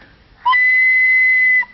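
A single whistle blown loudly and close, one steady shrill tone lasting about a second after a brief chirp, then stopping cleanly.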